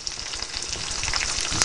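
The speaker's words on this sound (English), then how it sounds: "it's sort of saute frying up" Salmon sautés in a hot pan, giving a steady, close, crackling sizzle that holds evenly and grows slightly louder toward the end, with no voices.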